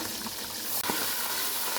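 Water is poured into a hot pan of fried sliced onions, whole spices and garlic paste, giving a brief burst of sizzling and bubbling up close, with no talking.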